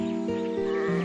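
Sheep bleat on a farm, a close, loud run of wavering cries with several quick bursts in a row and no speech.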